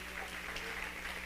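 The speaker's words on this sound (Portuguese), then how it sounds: "Então aplauda o Senhor, porque Ele vai te ensinar." A church congregation applauds during a seminar, a brief, fairly faint patter of clapping over a steady low hum.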